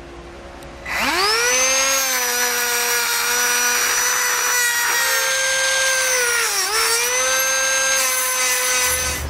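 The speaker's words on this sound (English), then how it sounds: "Now I'm going to cut our bolts using a cutoff wheel." A cutoff wheel slicing through steel bolts to length on a 2016 Nissan, a loud steady high-pitched screech that dips briefly as the wheel loads, close and continuous for several seconds.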